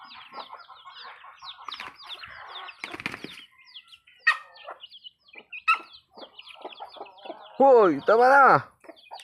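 A large chicken, meant for frying, clucks and squawks in quick bursts, then beats its wings loudly near the end, with people talking nearby.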